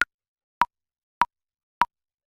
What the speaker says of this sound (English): So what you just heard is our click track